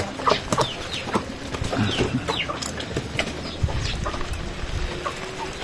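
Backyard chickens cluck and chirp in short, repeated calls over a busy outdoor background during a typhoon in the Philippines, fairly close, with occasional sharper squawks.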